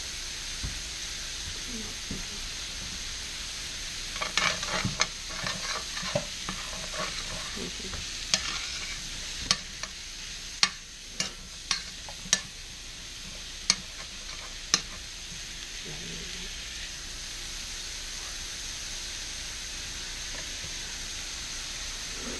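Mushrooms cooking in melted butter in a pan, with a steady hiss of frying and a run of sharp ticks and spatula taps against the pan, close and moderately loud, with no voices.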